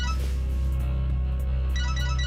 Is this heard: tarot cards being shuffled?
no